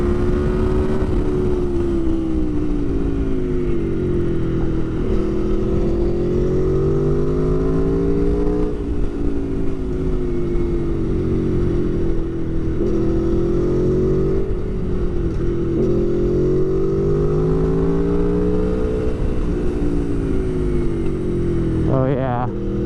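Aprilia Tuono Factory 1100 motorcycle riding steadily while bedding in new DP Brakes SDP Sport HH+ sintered brake pads, with a continuous loud engine drone that rises and falls in pitch through repeated gentle speed changes.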